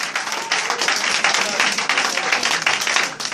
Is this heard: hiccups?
no